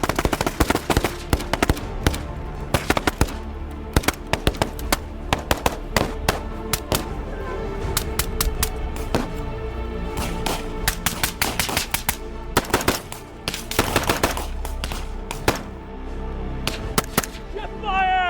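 Gunfire during an ambush drill: dense, loud bursts of rapid rifle fire with overlapping shots continuing for the whole stretch, with shouted voices mixed in.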